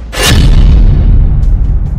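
Explosion sound effect for a news report on tanks being blown up in Ukraine: one loud, sudden blast that rolls into a heavy, sustained low rumble.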